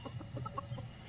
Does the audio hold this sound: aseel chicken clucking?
yes